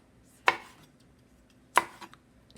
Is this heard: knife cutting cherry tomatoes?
yes